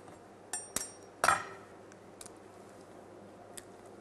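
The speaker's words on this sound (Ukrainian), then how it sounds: "І розбиваємо по одному яйцю в кожну формочку." Eggs are cracked one by one into small ramekins for baked eggs cocotte, giving a few sharp, close taps and clinks separated by quiet pauses.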